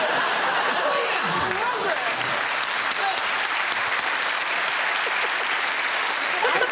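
A studio audience at a panel quiz show cheers and applauds in a dense, steady roar that lasts the whole stretch, with scattered laughter mixed into the clapping.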